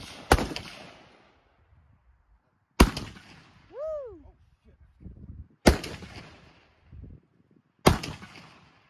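Four sharp, loud gunshots spaced a few seconds apart at an outdoor shooting practice, each with a short ringing tail, plus a brief whistling tone and faint scattered background noise between shots.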